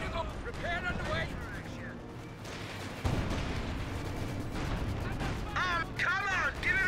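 Gunfire and artillery shots ring out in a World War II real-time strategy battle at La Gleize, repeated booms and cracks scattered beneath almost constant voices talking over the combat.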